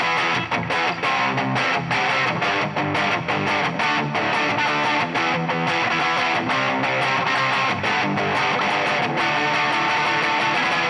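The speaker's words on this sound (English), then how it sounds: "we want to get some distortion" A heavily distorted Yamaha Revstar electric guitar plays loud, dense chords and riffs with a gritty, saturated tone, continuous and close without pauses.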